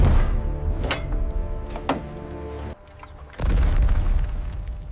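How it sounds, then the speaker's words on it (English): Deep booming blasts of cannon fire, several heavy reports with rumbling tails, loud and reverberant, separated by a brief lull. "When the first cannon fired, the age of medieval warfare began to die."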